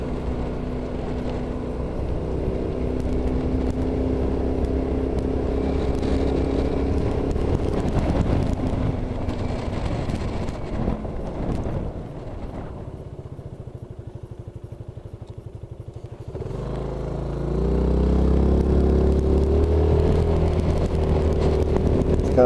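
Motorcycle on a relaxed day ride through open country, engine droning steadily with wind rush, dipping quieter midway before the engine note swells louder again near the end.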